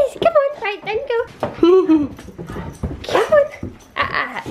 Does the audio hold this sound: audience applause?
no